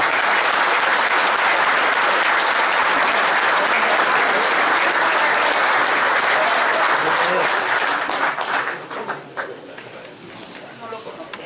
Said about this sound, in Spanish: voy a pedir un tremendo aplauso para Ricardo